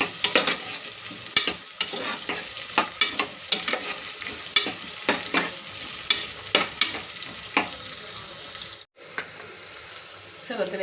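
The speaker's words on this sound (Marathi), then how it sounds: "चला तर आपलं तेल गरम झालेलं आहे, त्याच्यामध्ये टाकून घेऊया कांदे। कांद्या थोडंसं लालसर होऊ देपर्यंत परतू द्यायचं।" Onions stirred in hot oil until they turn reddish, for a matar pulao, with a loud, close sizzle and repeated spatula scrapes and knocks that briefly drop out near the end.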